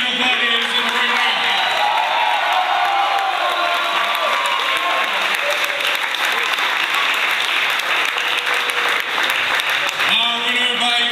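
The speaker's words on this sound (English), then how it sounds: "how about a big round of applause for these female gladiators in the ring?" Crowd applause with some cheering fills a combat-sports arena after a women's MMA bout, loud and sustained throughout, with an announcer's amplified voice briefly over it near the start.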